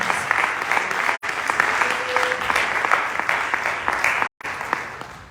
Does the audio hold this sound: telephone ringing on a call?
no